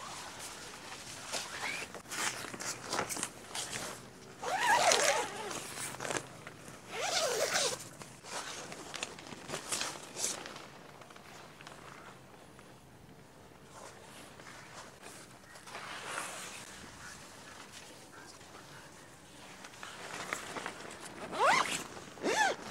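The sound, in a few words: zipping Mobi Garden tent awning door zips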